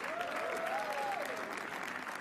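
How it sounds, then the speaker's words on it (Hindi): An audience applauding at a comedy roast show, a dense steady wash of clapping throughout, moderately distant, with some voices faintly underneath. "गाइस शाश्वत के लिए ताली बजाओ एक बार"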